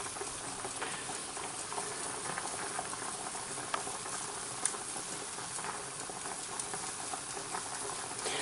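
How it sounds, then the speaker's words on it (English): Spaghetti water at a steady boil in a pot on a kitchen stove, a continuous close bubbling and popping hiss that carries on alone without talk. "That's just for some people who like the sound of cooking, of like water boiling."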